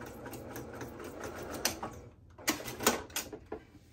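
Sewing machine stitching a seam on a washable fabric basket, running in short bursts with rapid needle chatter, brief pauses and stops between runs.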